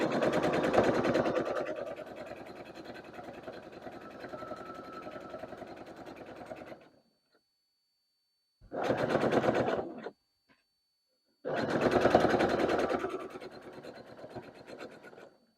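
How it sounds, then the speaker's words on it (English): A sewing machine stitches an apron, running in a long steady burst, then stopping for a silent pause, then two shorter bursts of rapid, even needle chatter, close and clear. "I like to sew right off of the edge of my fabric and then turn it"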